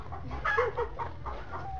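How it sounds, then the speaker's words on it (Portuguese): A chicken clucks in a run of short, bright calls over a low, steady background rumble, fairly close by. "Ó a galinha do Jorge lá enchendo o saco lá, ó"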